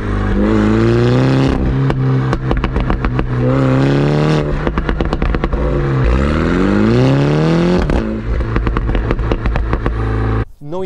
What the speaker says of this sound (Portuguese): Se estão à procura de um John Cupworks em condições, poucos quilómetros, bem estimado e com uma nota de escape do outro mundo